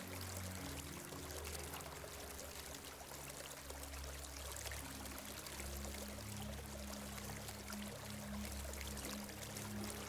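Faint, continuous river water flowing and pouring in a steady rushing wash with no breaks, heard quietly from a distance with no voices.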